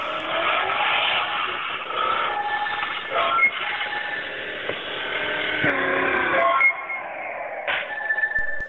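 A car's engine in the hill-climb driving game Exion Hill Racing, humming continuously as it drives slowly with small revs and bumps, loud and steady throughout with no talk.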